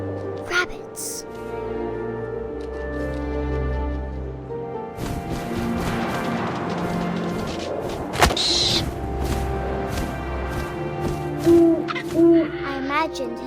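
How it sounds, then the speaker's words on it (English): An owl hoots in the video game What Remains of Edith Finch, a few soft hoots set against wind and a low ambient drone, with a narrator's voice running over parts of the scene. "And suddenly, I was an owl."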